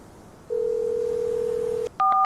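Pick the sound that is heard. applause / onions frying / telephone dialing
telephone dialing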